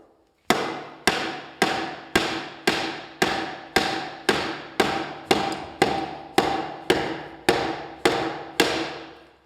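A hammer strikes a wooden sacrificial wedge about sixteen times in a steady, even rhythm. The sharp, close, loud knocks each fade quickly before the next blow.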